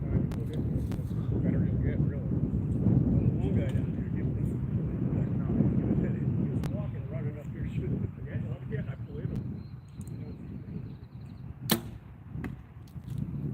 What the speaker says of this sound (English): The wind is ripping.